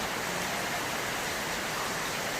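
Rain falling outside over shallow floodwater, a constant hiss of steady broadband wash with no talk or distinct drops.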